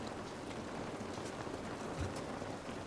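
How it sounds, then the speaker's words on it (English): Steady game rain from The Last of Us Part 2 falls as a dense, even hiss, filling the scene from start to finish at a moderate level, with one brief low thump near the end. "This rain ain't gonna do us any good."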